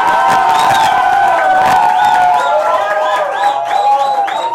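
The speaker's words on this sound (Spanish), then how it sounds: "Aplausos por las señoritas Sauna." A crowd at a year-end contest show cheers and whoops loudly for contestants, a dense, steady roar of voices with a few claps and shouts rising over it.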